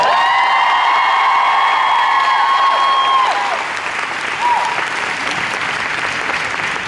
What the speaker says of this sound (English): Can we just get a nice round of applause for the band?